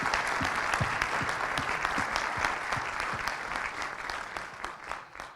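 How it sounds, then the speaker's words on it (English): Sustained applause from a luncheon audience honoring award recipients, steady dense clapping throughout with crisp individual claps standing out, tapering slightly toward the end. "I'd like to ask you to join me again in a round of applause for each of them"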